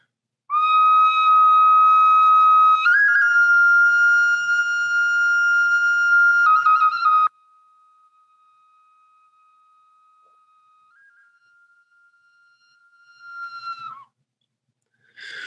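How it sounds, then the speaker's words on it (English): A bone whistle plays sustained, bright tones at a ceremonial symposium gathering, loud and steady for about seven seconds, then a faint thin held note follows before brief louder bursts near the end. "and I'll bring in my bone whistle."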